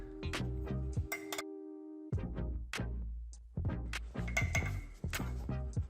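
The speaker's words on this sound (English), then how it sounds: "we're going to give it a little stir with the ForeignMRE.com spork" A spork stirs inside a metal camping mug, a close series of light clinks and scrapes with short pauses, no talking.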